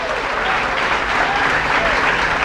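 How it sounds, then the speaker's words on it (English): An audience at a Green New Deal town hall in New York City bursts into dense, loud applause that fills the whole moment, a continuous roar of many hands clapping with some cheering. "Let's also have another round of applause for Jumaane"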